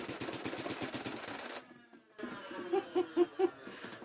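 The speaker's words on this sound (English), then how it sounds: "going for another full mag dump" A Nerf blaster emptying a full magazine, a fast run of sharp mechanical shots, then a brief pause and a few louder individual thuds at close range.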